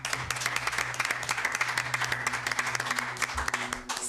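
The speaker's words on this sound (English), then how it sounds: "I think for the finals, we can just give ourselves a round of applause." Steady applause from an audience at a debate competition grand final, a dense continuous patter of clapping hands filling the whole stretch with some faint background voices.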